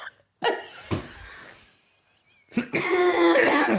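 Several harsh, close coughs in a row from a person with bronchitis, a pause with faint breathing, then another cough burst trailing into a strained voice.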